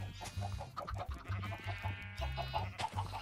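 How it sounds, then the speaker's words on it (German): Minecraft chickens cluck again and again in a penned flock, with short, overlapping clucks and squawks over a dense background of game music. The sound is steady, busy and close, with no speech. "Hier die Hühnerarmee."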